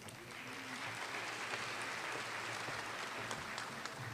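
A large audience claps for honored students at an academic recognition ceremony, a sustained, even roar of many hands heard from a distance, fairly faint and with no talk.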